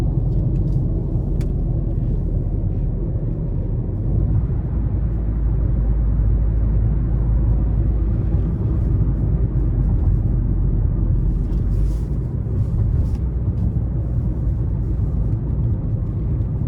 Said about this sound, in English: Road noise, you can hear it a little bit, but this stretch of the interstate is pretty rough anyway.